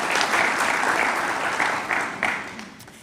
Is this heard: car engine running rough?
no